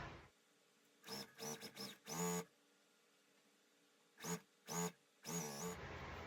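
Sewing machine stitching scrappy quilt pieces, quiet short bursts of rapid mechanical whirring, three or four close together, then a gap and three more, against a faint room hiss.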